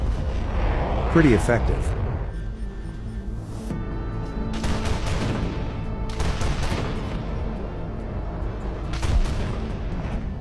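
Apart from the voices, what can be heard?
anti-aircraft tank autocannon firing proximity fuse shells, War Thunder video game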